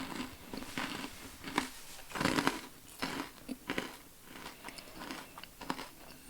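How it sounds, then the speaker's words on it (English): Cold-weather MRE Bakewell Tart dessert with cherry and almond being bitten and chewed close up, a run of repeated crisp crunches and crackles in an irregular rhythm over several seconds, with no talk. "Has a real nice crunch to it, and tastes like Bakewell Tart."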